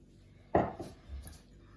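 Sugar, starch and flour being stirred together in a bowl for plombir cream, a single sharp utensil scrape followed by a few softer clinks and rustles, close and alone.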